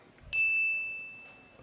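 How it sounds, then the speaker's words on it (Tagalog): A single bright debate timer bell strikes once at a televised 2016 presidential debate, its clear ringing tone sustained and slowly fading over the quiet hall. "Ang unang bell po ay 10-second mark"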